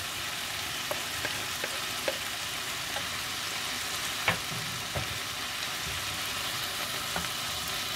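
Mushrooms and chopped onions fry in a pan, giving a steady low sizzle with a few soft clicks and stirring taps scattered through, heard up close with no voices.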